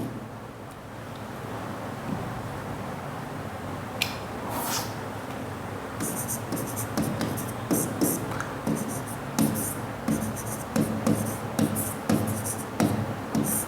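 A pen writes out a maths solution on paper, steady scratching strokes in short bursts throughout, faint and close with low background hiss.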